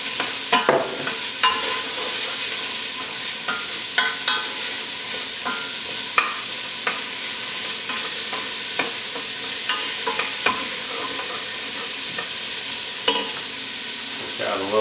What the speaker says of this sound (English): Now we're just going to give this a bit of a light fry, not much at all.